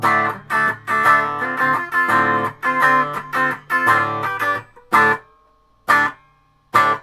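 A 2020 Squier Classic Vibe 60s Jazzmaster on the bridge pickup, run with no pedals through a Laney VC15 amp and 3x12 cabinet: a run of chopped strummed chords, then three isolated stabs separated by silence, close and clear.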